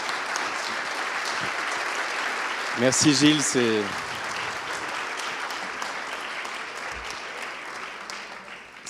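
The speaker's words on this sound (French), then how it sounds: "Ces applaudissements sont amplement mérités." Applause fills a lecture hall after a talk at a conference on building with massive stone, continuous clapping from the audience while a voice briefly speaks over it near the middle.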